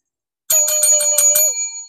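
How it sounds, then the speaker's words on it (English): A small bell rings in a quick run of about six bright dings, close and clear against silence, with one steady ringing tone carrying through and fading at the end. "Oh, got to get my bell."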